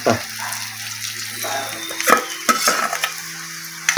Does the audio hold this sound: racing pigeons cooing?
no